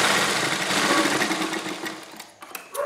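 A sewing machine runs a steady double line of stitching along a short jacket seam, a continuous close whirring that slows and stutters near the end with a few brief clicks.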